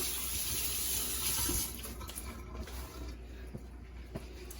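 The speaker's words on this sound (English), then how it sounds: "now that we got that done, wash our hands a little bit" Hands being washed under a running kitchen tap during turkey brine preparation, a steady close rush of water that eases slightly midway, with no talking.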